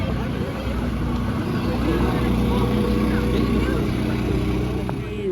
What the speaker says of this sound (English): As you see, we are now on a moving hayride.